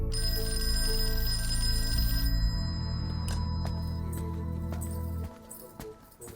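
A telephone rings steadily and loudly for several seconds, a continuous electronic bell tone that cuts off near the end, leaving quieter background noise.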